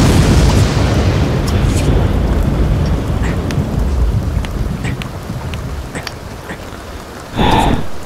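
Rain and thunder in the video game The Sims 2 give a loud, steady downpour with a deep rumble early on, fading slightly before a sharp, close thunder crack near the end, with no talking.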